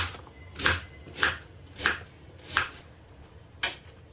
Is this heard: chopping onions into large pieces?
yes